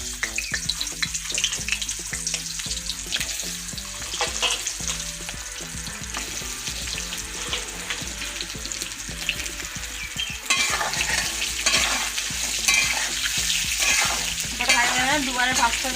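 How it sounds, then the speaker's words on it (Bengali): Pointed gourds (potol), rubbed with salt and turmeric, crackle and sizzle steadily as they drop into hot oil in a pan, a dense, close frying hiss that swells louder partway through, with light stirring clatter and no talk. "তেল গরম হয়ে গেছে, পটলগুলো আমি তেলের মধ্যে ছেড়ে দিচ্ছি।"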